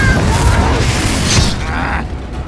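A fiery spell bursts with a loud boom and crackling roar in the Hogwarts Legacy video game, swelling then fading over a couple of seconds amid game ambience.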